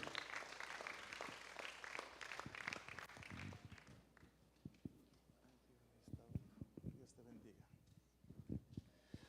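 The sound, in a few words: audience applause for a pastor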